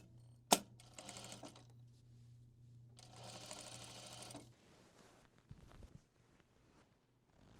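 A sewing machine stitches a dress for a witch costume in two short bursts of close, steady mechanical whirring, preceded by a sharp click and followed by faint handling noises, with a low hum underneath.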